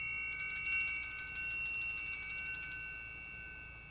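A triangle roll is played in the corner of the instrument, a bright, shimmering metallic tremolo that sustains for a couple of seconds and then fades into a lingering ring, close and alone.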